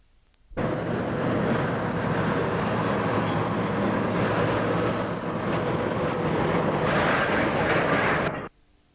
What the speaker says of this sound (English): A loaded train from the ore stockpile passes West Junction and then the junction to the Mineral Quay